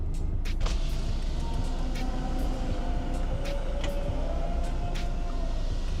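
Steady low road rumble and engine drone inside a Toyota Innova Reborn while driving, constant and moderately loud with faint higher ticks and rattles, no talking.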